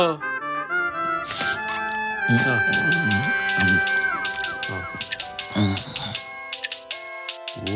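A melodic electronic phone ringtone plays loudly with repeating tones, while voices talk over it in the background.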